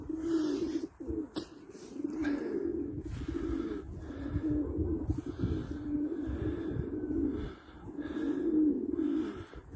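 Pigeons cooing in a loft, with repeated low, throaty coos overlapping continuously at close range and occasional soft rustles in the background.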